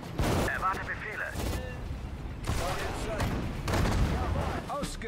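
Gunfire and explosions in the WWII strategy game Sudden Strike 4, heard as repeated bursts and booms of battle noise that continue throughout, with German voices speaking over the fighting.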